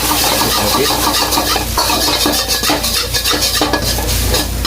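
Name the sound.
stirring fried rice in a sizzling wok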